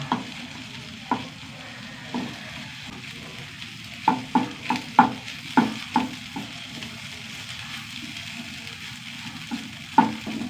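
Beetroot and egg stir-fry with pepper powder in a pan, with a low steady sizzle under a run of rhythmic spatula knocks and scrapes, close and fairly loud, and no talking.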